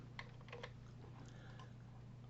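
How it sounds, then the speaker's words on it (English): A few soft keystrokes on a computer keyboard tap out in a short quick burst while a program is typed, faint and close against a low background hum. "I'm going to type this in as a program."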